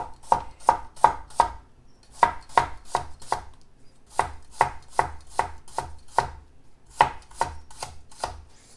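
Cucumber being chopped for tzatziki on a board: quick, crisp knife strikes in clustered runs of four to six, close and clear with short pauses between bursts.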